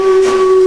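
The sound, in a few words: steam locomotive whistle on steam-hauled special at Bratislava Station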